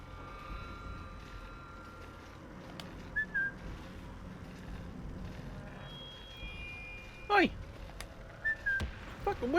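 A character in the WWII shooter Sniper Elite 5 gives two short, rising whistles, one mid-clip and one near the end, over steady outdoor ambience broken by a few sharp thuds.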